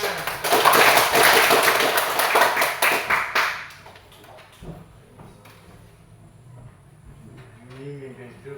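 A classroom group bursts into loud, dense applause with many hands clapping together for about three seconds, then it cuts off and quieter room sounds and faint voices follow.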